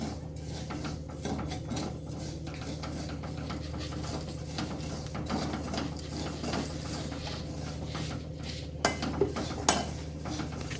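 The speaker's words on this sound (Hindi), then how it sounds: "नमक जो हमारा गर्म हो चुका है, इसमें इसको डाल के हम भून लेते हैं थोड़ा थोड़ा करके" A snack is roasted in hot salt in a pan over a low flame while being stirred, giving a continuous gritty, rattling scrape with a few sharper clinks near the end.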